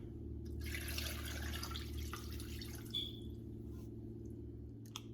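Water pours into a stockpot of fish bones and vegetables in a home kitchen, a steady splashing rush for about two seconds that tapers into a few drips over a low kitchen hum.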